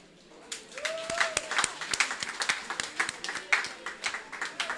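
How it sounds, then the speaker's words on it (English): Audience applause at a women's forum celebration: a modest group clapping in a loose, uneven rhythm, individual claps distinct and fairly quiet in a room, with a brief voice sound near the start. "Give her a round of applause."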